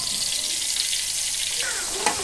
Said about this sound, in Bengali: এই তেলে ভাজি করছি।